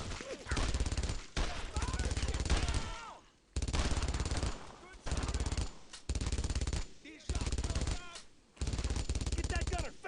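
An enemy machine gunner fires in Brothers in Arms: Road to Hill 30, long loud bursts of rapid automatic fire broken by short pauses, repeating across the whole stretch.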